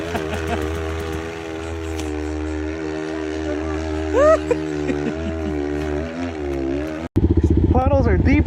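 A dirt bike engine strains and revs loudly as the rider climbs a steep mountainside, a steady droning note with rising pitch sweeps midway, then a sharp break and harsher, choppier revving near the end.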